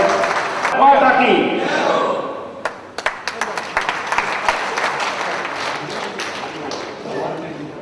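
Loud applause welcoming guests at a BJP district event, opening with voices and crowd noise before individual sharp claps build into steady clapping that fades slightly toward the end.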